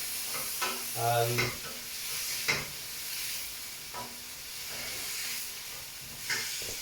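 Stir-fry in a hot pan being stirred, a steady close sizzle and hiss with occasional scraping strokes and clacks of the utensil rising above the frying.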